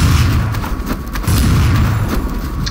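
A grenade detonates in Counter-Strike: Source, a deep booming blast amid continuous rumbling gunfire and low thuds, loud and dense throughout with no clear gaps.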